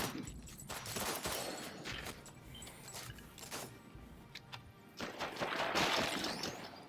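Gunfire in the VR action game Sairento, faint bursts of shots and impacts scattered through the stretch over a low busy game background.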